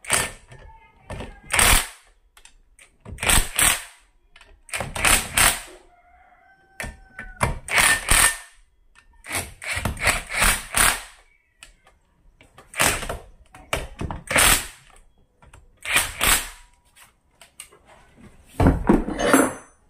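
Repeated short metallic clanks and ratcheting clicks from a manual hand tool tightening bolts on a Yamaha outboard engine, in bursts of a second or so separated by brief pauses.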